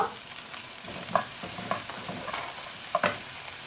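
Chopped carrot, capsicum and a small tomato frying in a pan for spicy vegetable pasta, a soft continuous sizzle broken by a few sharp spoon scrapes and taps.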